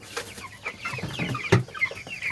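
Chickens clucking while being fed, several birds giving short close clucks and murmurs in quick irregular succession, with soft rustling around them.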